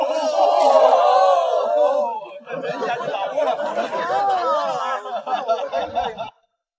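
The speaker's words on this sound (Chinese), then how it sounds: "人群聚集的越来越多了。" Crowd of people gathering around an angler at a fishing pond, several voices chattering and laughing close by, steady and busy before cutting off.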